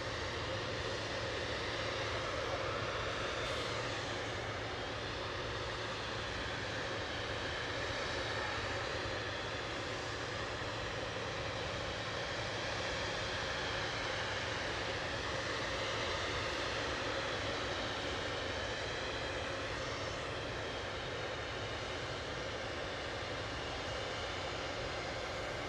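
A Jet2 Airbus A321 at Manchester Airport, bound for Palma, its engines giving a sustained broadband roar with a rising and falling whine, fairly close and steady throughout, with no talk.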